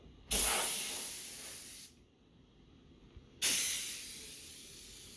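A Grant's handheld steam cleaner used on windows gives two loud bursts of hissing steam, each starting abruptly and slowly fading, with a short quiet gap between them.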